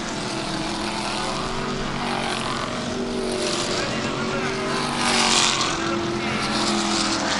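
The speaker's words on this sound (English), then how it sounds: "they're doing their parade lap, getting ready to take the green." Race cars roar together on a parade lap at Lee, a bullring short track, before the Bullring Bash 100, a continuous dense engine drone with a slight swell as they pass, while a person talks over it.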